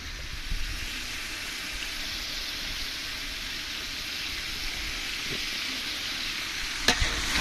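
Biryani masala frying on medium flame in a pot, a soft steady sizzle with faint stirring scrapes and a sharp clink near the end, fairly quiet and close.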